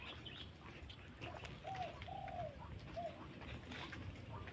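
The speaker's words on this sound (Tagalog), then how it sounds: "Maririnig mo ang ahuni ng ibon." Birds chirp and a dove coos a few times outdoors in a breezy rural countryside setting, the calls moderately close over steady wind and a constant high insect-like hiss.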